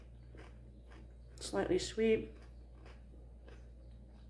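Two short, sharp crunches from a bite into a crisp raw vegetable, close up, followed by quiet speech.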